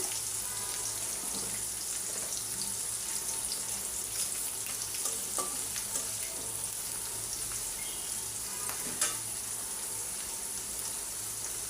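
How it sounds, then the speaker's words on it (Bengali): Garlic and ginger fry in hot oil after a mix of panch phoron spices is added, for a vegetarian vegetable dish. A constant close sizzle hisses throughout with small crackles and no talking. "রসুন আর আদাটা ভালো করে ভাজা হয়ে গেছে এখন একটা মিক্স পাঁচফোড়ন দিয়ে দিলাম"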